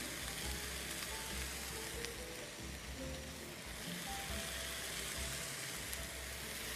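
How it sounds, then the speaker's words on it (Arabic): Onions browning slowly in a pan with bay leaves and thyme for onion soup give off a faint, even crackling sizzle that holds steady throughout, soft and somewhat distant. "لبينما يتحمص البصل"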